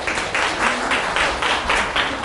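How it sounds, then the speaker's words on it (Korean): An audience at a university admissions strategy seminar applauds a speaker, giving a dense, even round of clapping with a slightly pulsing rhythm for about two seconds. "큰 박수로 부탁드리겠습니다"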